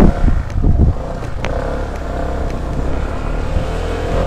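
An ATR 160 motorcycle rides over a rough road, its engine a steady, loud, close drone with some knocks and rattles early on and no talk over it.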